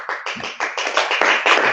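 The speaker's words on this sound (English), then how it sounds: "掌声鼓励鼓励，谢谢。" A small group claps in short bursts that start and stop, quick uneven claps close to the microphone, then the clapping thickens toward the end.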